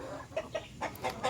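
Egg-laying hens clucking close by in a coop in the Philippines, several short soft clucks in an uneven rhythm over quiet background.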